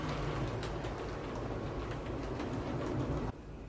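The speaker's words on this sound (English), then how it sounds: "Here comes the train." A model railway train runs along its track on a layout with crossing signal lights, a steady close rumble with faint clicks that drops off abruptly near the end.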